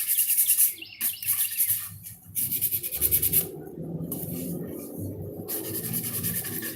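A sponge rubs and scrubs over the gesso-prepared body of an antique wooden ball-jointed doll in steady, close, rasping strokes with short pauses, while faint bird chirps sound in the background.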